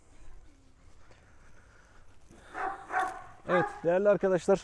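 A Malaklı dog barks several times in close succession, loud and near, following a man's quiet speech at the start.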